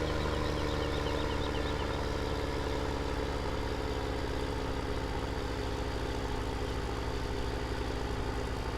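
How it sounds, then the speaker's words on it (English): A John Deere tractor in Farming Simulator 17 hauls gravity wagons uphill, its engine droning in a steady, loud, unbroken low rumble with no gaps or pauses. "Watch the John Deere power here pull it up the hill."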